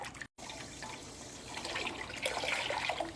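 Broth pouring into a pot in a home kitchen: a steady, close splashing stream of liquid that breaks off for a moment, then carries on and grows slightly busier and louder.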